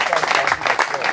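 Brief applause from a church congregation after a sermon, a short burst of many hands clapping with crowd voices mixed in.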